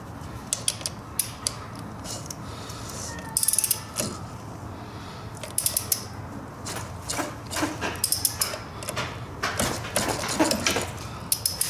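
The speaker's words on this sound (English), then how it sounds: "I'll have to tighten the screw And as the screw tightens, it's going to pull this out and pull the flywheel out with it." A flywheel puller's screw is tightened on a 2006 Yamaha Banshee's ignition flywheel, giving repeated close metallic creaks and ratchet-like clicks in short irregular bursts with no talk.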